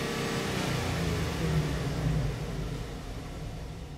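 A Chevy truck engine with an O2 sensor heater fault on bank 1, sensor 2 revs as gas is applied. A steady, close rumble swells briefly in the middle, then eases back, with no talking.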